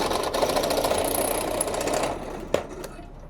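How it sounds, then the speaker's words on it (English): A power drill whirs steadily for a couple of seconds drilling a hole in waterline parts for a boat cabin build, then winds down, with a sharp knock near the end. "Gotta drill a hole in that real quick."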